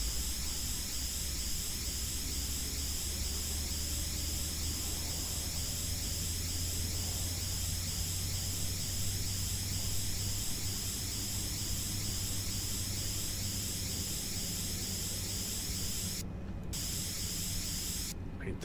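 Paint spraying in the video game Farm Renovator, a continuous, even spray-can hiss lasting throughout with a low steady hum beneath and two brief cutouts near the end.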